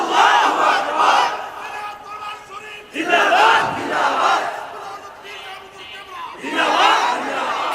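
A large crowd loudly chants Allahu Akbar in reply to a Takbir call at a religious gathering, with three swelling shouts, each a few seconds long, separated by short pauses.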